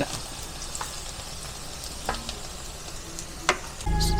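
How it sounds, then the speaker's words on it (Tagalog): Ginger and then garlic sizzle in a hot pan for salmon-head sinigang, a continuous close frying crackle with occasional sharp ticks of a spatula, and a louder burst of sizzling near the end. "Luya muna po. Sunod po natin ang bawang. Umaandar ang ating kawali."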